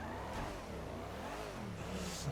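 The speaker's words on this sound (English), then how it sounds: "I could hear a loud car." Race car engine revving in GTA 5, a moderately loud mid-pitched roar whose pitch climbs and falls in waves, with no voices over it.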